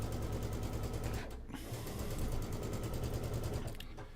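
A sewing machine stitches along one side of a graduation quilt, its needle running in a rapid, even mechanical chatter that pauses briefly and resumes, close and moderately loud.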